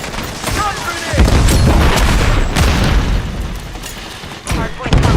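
A grenade blast in the video game Wuthering Waves: heavy, booming explosions close and loud, with crackling gunfire mixed in and running almost continuously for the whole stretch.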